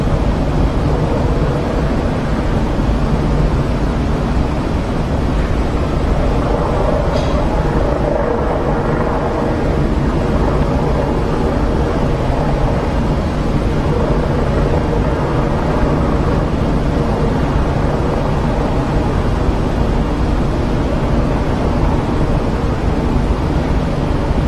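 Chinook helicopters passing overhead at a VE and Liberation Day commemoration, a loud continuous low rotor rumble and roar that holds steady throughout, with no voices.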